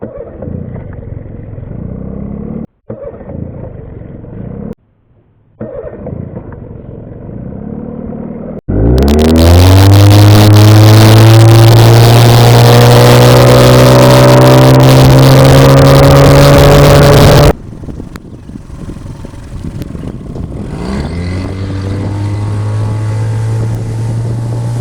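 An outboard motor on a boat for sale starts with a sputter after brief handling noises, then roars loudly at high revs for several seconds before settling into a steady, lower idle running nearby.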